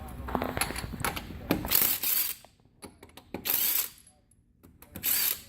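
A handheld power tool whirs in short bursts with a ratcheting rattle as it spins off car wheel lug nuts during a brake, hub bearing and rotor job, loud and close with quiet gaps between pulls.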